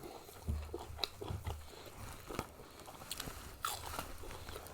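Crunchy roast duck being eaten up close, with several crisp bites followed by softer crunching and chewing, fairly quiet and without speech.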